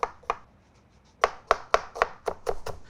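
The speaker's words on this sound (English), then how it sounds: "We're gonna start with chopping an onions" A knife chops onions on a cutting board for a rustic tomato sauce, giving a series of crisp, close taps, sparse at first and then quickening into a steady rhythm, with no talking.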